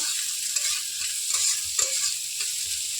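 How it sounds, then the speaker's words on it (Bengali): Ghetkochu (giant taro) stems fry in a pan with a dense, continuous sizzle, while a spatula scrapes and taps intermittently at close range; nobody speaks. "ওর জন্য ভালো করে ভেজে নেব ডাঁটিগুলো"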